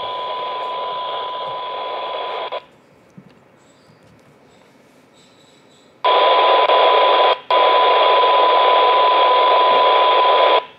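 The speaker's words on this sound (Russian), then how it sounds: "Ну вот уже сигнал четко слышен на минус 125 dBm." A received FM signal on a Baofeng AR-152 handheld radio: a loud steady tone with hiss that cuts out for a few seconds of near silence, then returns with a brief break before ending.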